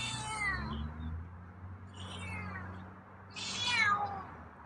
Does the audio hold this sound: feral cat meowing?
yes